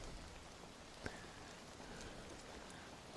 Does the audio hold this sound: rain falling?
yes